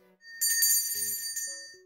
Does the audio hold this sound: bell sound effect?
yes